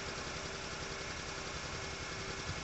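A Porsche Cayenne SUV engine idling with an ignition misfire, running on five of six cylinders, its exhaust shaking; a steady, dense rumble heard close at the tailpipe, even and continuous with no voices.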